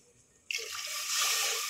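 Water gushes into a pot of mutton tripe curry, starting abruptly with a splash and continuing as a steady, fairly quiet pouring stream.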